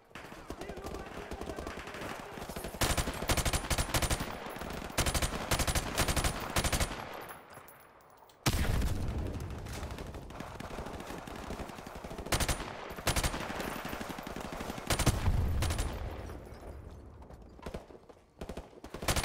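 Dense bursts of automatic gunfire in Call of Duty Modern Warfare, played on Xbox Series X, rattle on loud and close with short gaps, a brief drop near the middle and sustained firing afterward.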